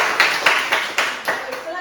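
Classroom clapping from a group of students, a series of quick uneven bursts that come close together and fade toward the end, with no talking over it.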